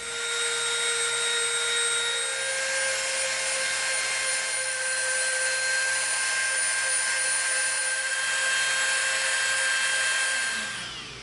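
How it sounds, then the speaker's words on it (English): A Dremel rotary tool grinding and rounding over the edge of EVA foam, a steady high-pitched whine held evenly throughout and close by, with no one speaking. "We're gonna come in with a Dremel and we're gonna round this edge over and clean this"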